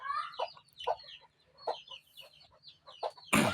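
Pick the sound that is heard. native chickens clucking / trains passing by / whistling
native chickens clucking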